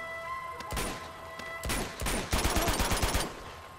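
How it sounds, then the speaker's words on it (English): AK rifle fire in Uncharted 2 Remastered: a few separate shots, then a rapid close burst of automatic fire, loud and sharp, with no talking. "Now it's time to use the AK."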